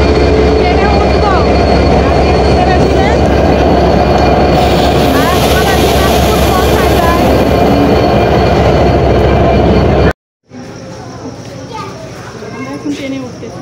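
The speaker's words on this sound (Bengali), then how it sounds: "এখন ট্রেনে উঠতেছি।" A train stands at a busy railway station under a loud, constant rumble of crowd noise and children's voices, then the sound cuts to a quieter, more distant scene.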